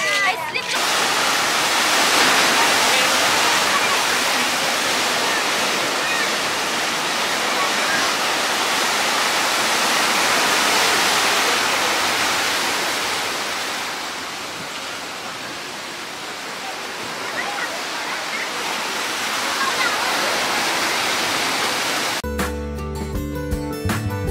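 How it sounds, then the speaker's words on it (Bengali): Sea waves and wind roar on Digha beach in a dense, steady wash of broadband noise that swells and eases slightly, with a brief burst of music at the end. "আর কি সুন্দর হাওয়া লাগছে সমুদ্রে।"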